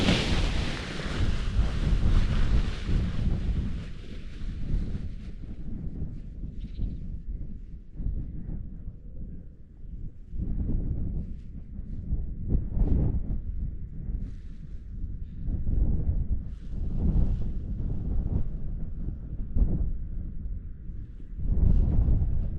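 Strong gusting wind buffets a paraglider pilot's microphone, a loud continuous rumbling roar with rising and falling gusts that lasts throughout, with no clear talk.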